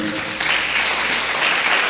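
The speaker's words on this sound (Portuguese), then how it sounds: "Aplauda ao Senhor" Church congregation applauding during a worship service, a steady wash of clapping that fills the room for the whole stretch, with a faint voice underneath.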